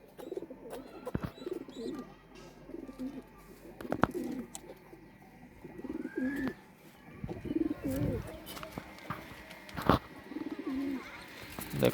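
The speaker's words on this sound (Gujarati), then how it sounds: "કબૂતર દાણા ખાય છે આપણા" Pigeons cooing in a loft while pecking at grain, repeated low soft coos in bursts close by, with scattered clicks and wing or foot noises between them.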